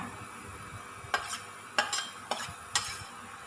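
Garlic frying in a pan, a steady background sizzle broken by four sharp scraping stir strokes of a utensil against the pan, close by with no talking.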